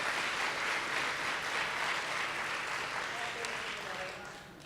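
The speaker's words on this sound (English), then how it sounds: "So how about a round of applause for Keith and the team." An audience at a leadership day event breaks into sustained applause, a dense, steady clapping that holds for several seconds and then fades slightly toward the end.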